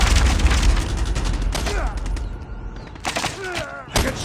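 Rapid gunfire from the mobile shooter game Call of Duty Mobile on the Tunisia map, with bursts of shots and booms that come and go over a steady background of game sound.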